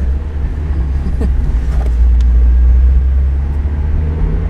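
A manual-transmission car drives with a steady low engine rumble heard from inside the cabin, and the revs shift briefly as a gear changes; no talking is heard.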